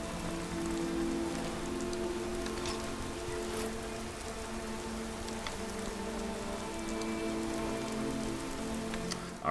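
Steady rain pours down across a fantasy role-playing game world, loud and unbroken from start to finish, with no voices over it.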